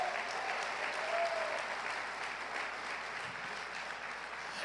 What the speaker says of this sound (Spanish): alguien dele un fuerte aplauso al Dios del cielo.